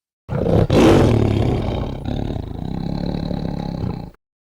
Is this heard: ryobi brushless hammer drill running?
no